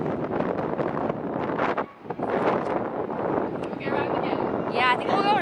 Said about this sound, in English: It's freezing and windy